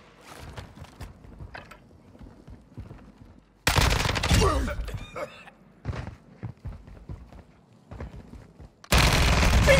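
Akimbo FTAC Siege pistols firing in bursts of rapid, loud shots in a Call of Duty-style shooter on the Vondel map, with quieter footsteps and mechanical clicks between volleys.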